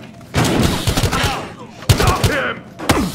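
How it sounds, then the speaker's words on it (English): Bursts of gunfire from the Battlefield Hardline campaign video game come in rapid volleys of close, loud shots, with short pauses between bursts and some game dialogue mixed in. "Multiple reports of gunfire."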